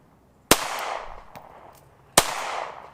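A Zastava EZ-9 compact pistol firing after a light primer strike: two sharp, loud, close gunshots with about a second and a half between them, each followed by a long echoing decay.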